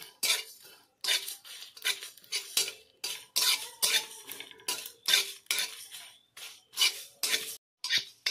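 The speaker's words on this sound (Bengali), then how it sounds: "এবার আমি সব মশলাগুলো দিয়ে দিলাম, দিয়ে মিডিয়াম আঁচে হালকা ভেজে নেব" Fennel, cumin and nigella seeds lightly frying over medium heat in a pan, stirred with a utensil that scrapes and clinks against the metal in repeated short, close bursts separated by brief pauses.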